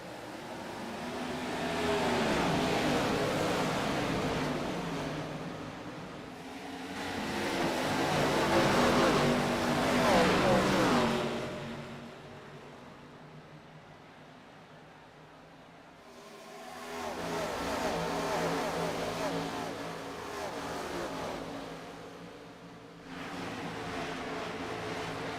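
Pack of race car engines at the race start of an iRacing event at Charlotte, a loud roaring mass that swells, fades and swells again as cars pass, with faint talk beneath.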